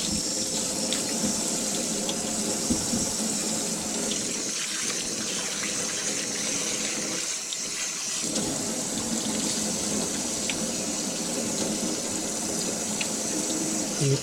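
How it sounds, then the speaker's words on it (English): Cold running tap water pours steadily over carp sashimi in a sink, a continuous close gushing splash that shifts briefly in tone as the fish is moved, with no voices. "Then you wash cold water, cold running water."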